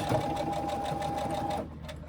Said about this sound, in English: So pull that at a 90-degree angle and then keep sewing to the end.